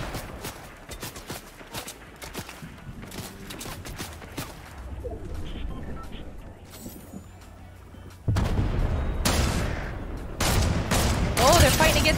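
Gunfire in the Fortnite video game, distant bursts and scattered shots from a fight across the map, with louder close shots near the end, over game ambience and birdsong.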